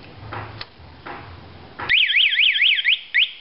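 After some soft rustling and handling, a loud electronic motorcycle alarm bursts on with a fast warbling whoop, stops briefly, then chirps once more.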